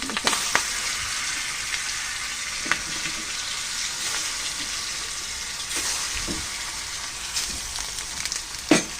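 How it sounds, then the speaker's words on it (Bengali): Fish frying in a pan on a home stove gives a steady, close crackling sizzle throughout, with a few sharp spits and clatters and no talking. "ওই পাশে চুলে কিন্তু মাছটা ভাজি করে নিতেছি"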